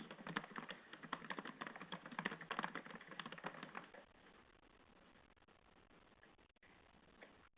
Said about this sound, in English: Does that answer your question, Cindy, as I'm typing this into the message box?